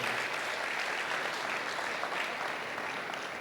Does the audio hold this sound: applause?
yes